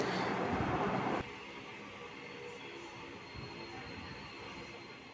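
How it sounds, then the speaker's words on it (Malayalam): The Kayamkulam–Ernakulam Express pulls out of Kottayam railway station, heard from on board as a loud rushing burst that drops to a steady rumbling roll of the moving carriages. "നമ്മുടെ വണ്ടി 2 മിനിറ്റിന് ശേഷം കോട്ടയം റെയിൽവേ സ്റ്റേഷനിൽ നിന്ന് പുറപ്പെട്ടു കേട്ടോ."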